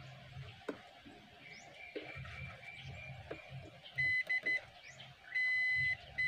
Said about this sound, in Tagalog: kung connected ito, pag nag-buzzer mga bro, ibig sabihin ground.